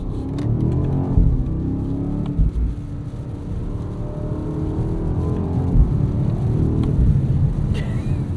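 A 2023 BMW 760i G70 flagship sedan accelerating on the road, its engine and exhaust rumbling low and steady from inside the cabin, with some surges in intensity throughout.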